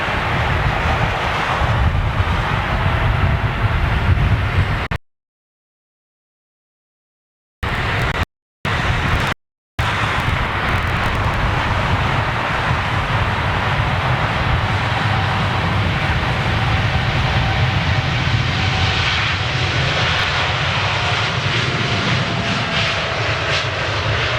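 Boeing 747 jet engines roaring through a takeoff roll on its final flight, a loud sustained broadband rumble with wind buffeting, broken by a few seconds of sudden dropouts before the steady roar resumes.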